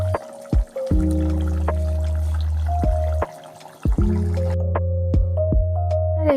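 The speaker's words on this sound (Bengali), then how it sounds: "মাছের ঝোলের একটু রিয়াল আওয়াজটা শোনালাম" Fish curry simmering in a covered pan, with close, wet bubbling and drip-like pops ticking irregularly over a steady low hiss, interrupted by a few brief pauses.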